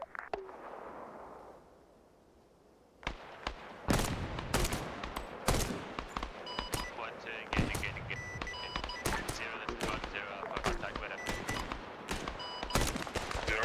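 Arma 3 military simulation gunfire cracks out in rapid bursts and single shots after a brief quiet stretch, loud and close with sharp, repeated reports over background noise.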